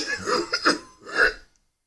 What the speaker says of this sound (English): Walk around and cough every now and then.